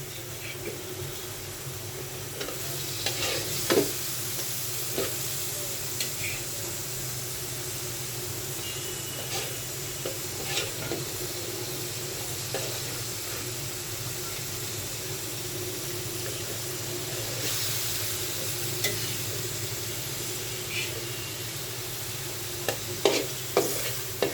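Coral fish pieces going into fried spices in a hot pan, a steady close sizzle running throughout with occasional sharp spatula scrapes and clicks scattered across it, no voices.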